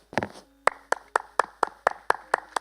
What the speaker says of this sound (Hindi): उनके लिए ताली ऐसे बजनी चाहिए।